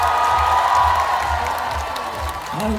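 A crowd at a rainy outdoor Omija festival in Mungyeong applauds and cheers, a loud, dense wash of clapping and shouts that eases slightly before a voice rises near the end.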